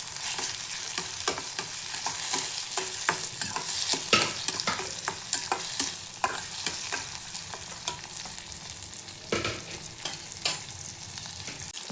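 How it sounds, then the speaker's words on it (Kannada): Tomatoes fry in a hot pan while a spatula stirs and scrapes through them in steady, repeated strokes, with a continuous close sizzle underneath and no talking. "ಹಾಗಾಗಿ ಈಗ ಟೊಮೆಟೊನೂ ಸಹ 1-2 ನಿಮಿಷ ಫ್ರೈ ಮಾಡ್ಕೊಳ್ಳೋಣ."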